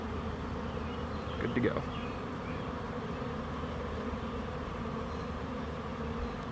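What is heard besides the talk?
honeybee swarm buzzing around a swarm trap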